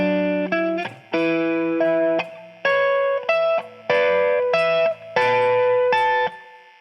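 A slow electric guitar lick, clean with effects and reverb, phrased as several sustained bent and held notes, close and fairly loud, with no talking.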